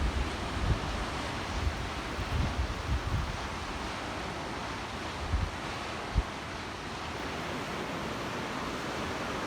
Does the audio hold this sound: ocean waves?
yes